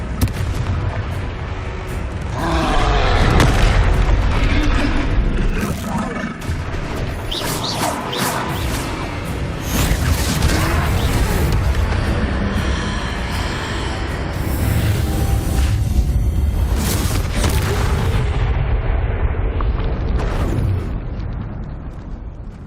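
Confringo fire spells exploding repeatedly during a troll fight in Hogwarts Legacy, a long loud run of crashing blasts, booms and debris bursts layered over a constant heavy rumble, with no voices.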